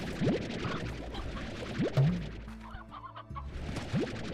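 Chickens cluck in a slime-themed video game world, several short clucks spread across the clip with a steady game backdrop, one group near the start, another in the middle and a last one at the end.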